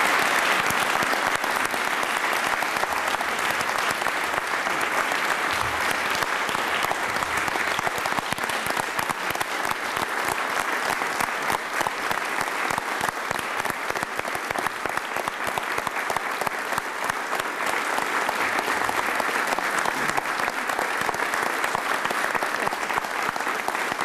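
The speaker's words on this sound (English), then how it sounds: "ask you to join me in applauding the best gift you have here, and that is Diana Natalicio" Long, sustained applause from a large audience honoring Diana Natalicio at UTEP's centennial campaign event, a dense roar of clapping that stays loud and unbroken for over twenty seconds.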